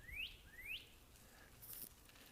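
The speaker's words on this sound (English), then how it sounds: "You see, this bird is singing for you." A bird sings at dusk outdoors with two quick rising whistled notes, faint and somewhat distant, followed by a brief soft rustle over quiet background ambience.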